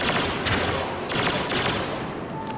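Blaster gunfire from Star Wars Battlefront multiplayer crackles in a few quick bursts over a dense background of battle noise, moderately loud.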